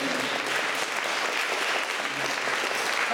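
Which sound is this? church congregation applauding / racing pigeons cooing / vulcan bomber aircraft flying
church congregation applauding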